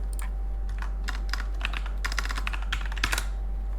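Fast, uneven typing on a computer keyboard, a run of crisp close key clicks with a few louder clusters near the end, over a steady low background hum.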